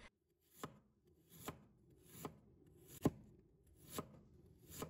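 A knife slices peeled fresh ginger on a cutting board in six evenly spaced, soft thuds, quiet and close against a faint background, with no talking.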